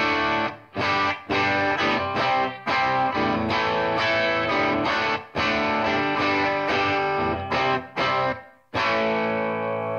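Electric guitar through an EarthQuaker Devices Monarch overdrive pedal kit at medium gain, strummed chords and riffs ringing out loud and steady, with brief pauses between phrases.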